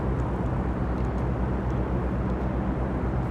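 Steady, loud drone of a light airplane's engine in a flight simulator game, a continuous low rumble with broadband hiss, unbroken and alone for a few seconds.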